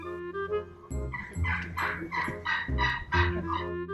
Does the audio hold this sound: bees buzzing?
no